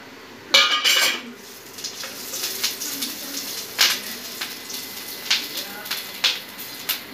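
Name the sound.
green chillies and ginger added to hot ghee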